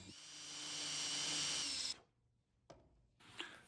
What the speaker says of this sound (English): And I just take a little countersink drill bit, but we do wanna drill this pretty deep.